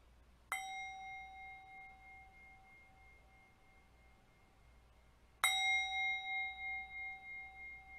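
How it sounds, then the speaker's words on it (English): Two clear bell strikes open a church service, about five seconds apart, each a bright ringing tone that sustains and slowly decays in a quiet room. "Heather will ring the bells that open our service."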